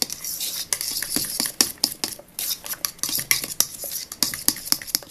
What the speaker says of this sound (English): So when you first start mixing the flour, like be slowly, and then you can increase your speed